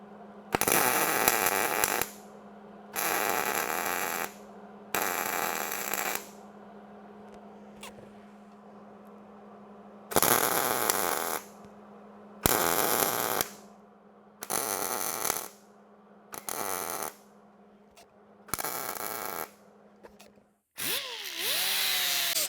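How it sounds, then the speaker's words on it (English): Repeated bursts of crackling welding as nuts are welded onto trunk hinge pins for a Model A Ford hot rod, about ten short loud stretches separated by pauses with a faint background hum. "So now it's time to weld the nuts on"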